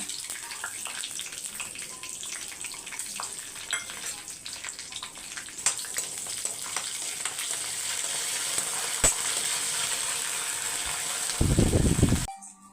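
Cashews fry in hot ghee with a continuous crackling sizzle and occasional ticks, building slightly louder toward the end before a short, loud burst of a different rushing noise.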